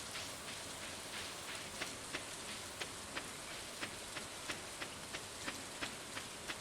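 Steady rain falls in Stardew Valley, an even wash of patter with regular light ticking drops over it and no voices.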